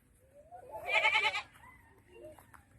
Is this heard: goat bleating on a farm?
yes